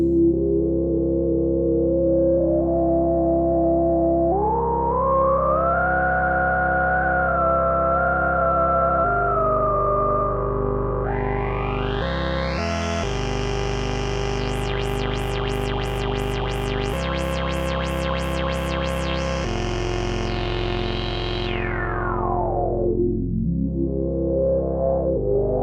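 Minimoog Voyager synthesizer drone with its filter spacing widened into two resonant peaks, sweeping up and down in pitch over a sustained low tone, with sudden shifts, a rapid stuttering section and a final downward glide.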